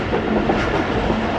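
Passenger train running through Pakistan, a steady close rumble with rhythmic clickety-clack of wheels on rail, continuous and loud throughout with no talking.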